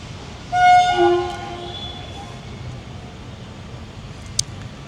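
A train at Coimbatore Junction railway station sounds a loud, sharp horn blast near the start, then steady low rumble of the station at night, with one brief clank later.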